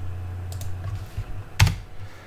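Calculator keys pressed while entering pi into the calculator during a pre-calculus right triangle problem: a few quick, close taps and one sharper press, over a low steady hum, without any voices.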